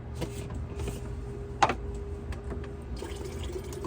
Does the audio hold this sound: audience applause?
no